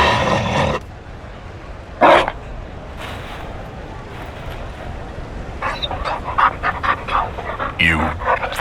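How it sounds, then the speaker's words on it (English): A Mabari war dog in Dragon Age Inquisition panting and giving low growls and whimpers, in short breathy bursts that come and go with quieter game ambience between them. "You found a dog?"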